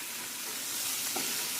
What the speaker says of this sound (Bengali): পটলটা একেবারে ভাজা ভাজা হয়ে আসছে